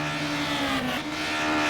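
BTCC touring car engines in the GTR2 racing simulator mod drone continuously with a buzzy, high revving tone, steady and loud throughout, with a slight pitch dip midway.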